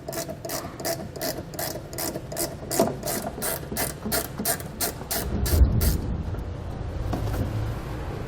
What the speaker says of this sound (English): The centerpiece here has a single nut that we're going to remove using a 10mm socket